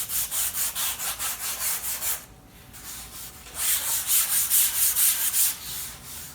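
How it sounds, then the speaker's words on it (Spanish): Fine sandpaper is rubbed by hand over a surface that already has a first coat of paint. Steady, rhythmic back-and-forth strokes sound close and raspy, stop briefly for a pause, then start again, with no talking. "con una lija de punto fino podemos darle en uno que ya tenemos con una primera capa una"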